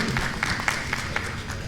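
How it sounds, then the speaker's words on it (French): An audience at a Haitian town hall meeting applauds to welcome the minister for Haitians living abroad, a brief burst of clapping with a few sharper, regular claps standing out above a background murmur. "un applaudissement, s'il vous plaît"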